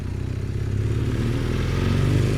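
A classic Kawasaki Z440 LTD motorcycle on the move, its engine producing a loud, steady rumbling drone with a throbbing pulse and rising slightly in pitch as it pulls along.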